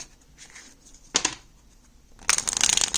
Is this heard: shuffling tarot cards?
yes